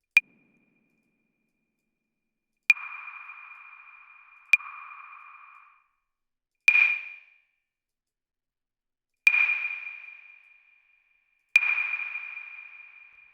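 Single metallic pings through a Maschine ICE reverb with its ice factor raised for a more metallic tone. Six separate bright hits are spread out, each ringing into a shimmering tail that fades. Nothing else is heard.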